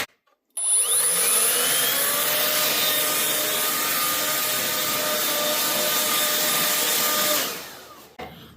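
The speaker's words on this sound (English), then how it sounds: "grab the little blower and blow the dust all out of it" A small blower roars on abruptly and runs as a loud, steady high-pitched whoosh for several seconds, blowing dust out of a newly assembled shop cabinet, then winds down and cuts off near the end.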